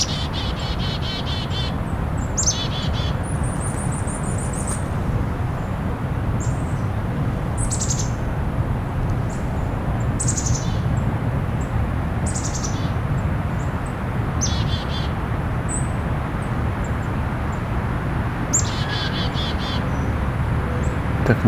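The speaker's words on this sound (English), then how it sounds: "Definitely brown creeper in here somewhere." Several songbirds, including a brown creeper and chickadees, call in quiet winter woods: repeated thin, high chips and short calls scattered across the stretch, over a steady low background hum.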